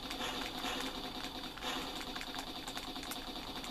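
A turbo engine whines in the Amiga shoot 'em up Banshee, a dense, continuous buzzing drone that runs steadily throughout amid busy game effects.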